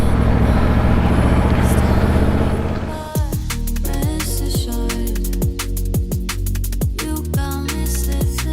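A 2024 Aprilia Tuono V4 1100 Factory motorcycle under way, its V4 engine loud and close: a steady roar gives way after three seconds to repeated rising revs and sharp gear-change drops, with rapid pops between shifts.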